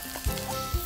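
Pork belly and chestnut pancakes frying in a hot pan give a steady close sizzle, with two soft low thumps as the food is stirred or moved.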